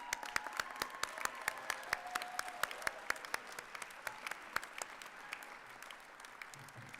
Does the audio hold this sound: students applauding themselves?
yes